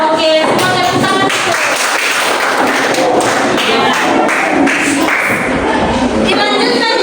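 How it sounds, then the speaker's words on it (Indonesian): A class of students clapping their hands together in a classroom during an Indonesian lesson, a loud dense burst of claps that runs steadily throughout with a few voices mixed in. "semua tepuk tangan"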